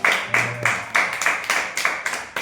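A church congregation claps in loose bursts, several sharp rounds of hand claps at an uneven rhythm, fairly close and moderately loud with no talking.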